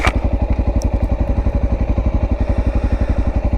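Motorcycle engine idling in neutral, a close, loud, steady low-pitched thumping pulse with an even rapid rhythm that continues unbroken.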